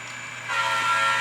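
A model freight train's horn and rumbling motor rise briefly as it departs the yard, a steady mechanical drone with tonal hum, close and fairly loud.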